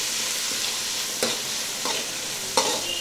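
Onions sautéing in a pan with soy sauce, a steady broadband sizzle running throughout while a utensil scrapes and stirs in a few distinct strokes; no talking.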